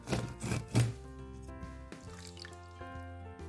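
Half a lemon is squeezed by hand for a honey and cinnamon remedy, with a few close wet squishes and drips at the start, followed by quieter faint clinks.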